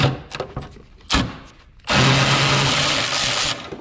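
A power tool works on engine bolts of a Renault 5 GT Turbo, with a few knocks and clatters followed by a loud, sustained whirring buzz up close.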